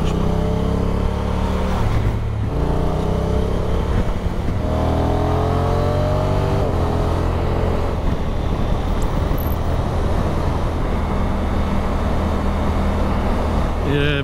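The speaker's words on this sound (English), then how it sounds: "Good selling point on this bike is that V-twin engine, the sound of it." Engine of a 2022 Honda NT1100 V-twin motorcycle on the road, a steady low throbbing drone with rising and falling pitch as the rider works the throttle, under heavy wind rush and intermittent talk from the rider.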